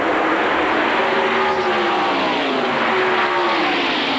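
Several stock car engines roar together at the 1992 Winston 500 race in a continuous loud drone, pitch gliding slightly as they pass, with no pauses throughout.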